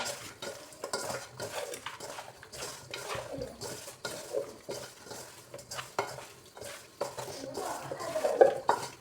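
Chicken being mixed with spices in a pan for a home-style Kerala chicken curry, a spoon scraping and stirring in repeated strokes with faint sizzling, quiet and close.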